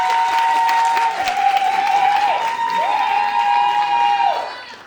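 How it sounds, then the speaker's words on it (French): A studio audience claps for a few seconds at a French dating show, steady and fairly loud, with a sustained electronic tone running under it. "Par applaudissement, s'il vous plaît."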